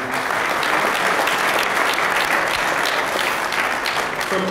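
Sustained, dense applause from a summit audience for Jamie Hardy, loud and even clapping filling the room without pause from start to finish.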